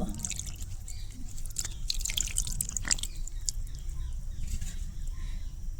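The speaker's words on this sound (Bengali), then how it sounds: "এই বাটিতে দুই বাটি জল দিব ও সেম বাটি দিয়ে জল দিব" Water is poured from a bowl into another bowl for chitoi pitha batter made with gur syrup, heard as close splashing and trickling drips in irregular bursts over a low background rumble.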